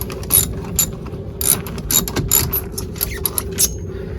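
Socket ratchet turned to loosen a wheel chock on a Coleman LT 214BHWE travel trailer, a rapid series of close, crisp metallic clicks in short uneven bursts over a low background hum.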